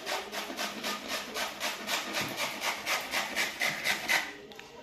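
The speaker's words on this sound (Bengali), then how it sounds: "এইভাবে আপনারা সব আমগুলোকে ঘষে নেবেন" Raw green mangoes are rubbed against a grater in a home kitchen, giving a close, regular back-and-forth rasping, about three strokes a second, steady and alone for several seconds.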